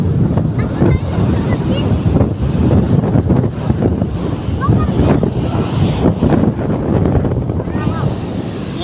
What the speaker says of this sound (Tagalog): Oh, grabe ang dagat.